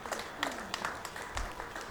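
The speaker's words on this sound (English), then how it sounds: "Keep that round of applause going for Ashley Burrows of Brooklyn, New York." An audience claps at a women's professional pool tournament, the WPBA Masters, with scattered uneven claps and a brief louder swell, under a faint murmur of voices.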